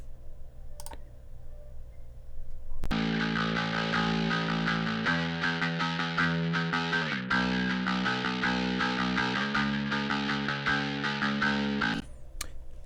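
A bass bite track treated with EQ, saturation and limiting plays alone, a bright, gritty, sustained bass line with changing notes running for about nine seconds before it cuts off.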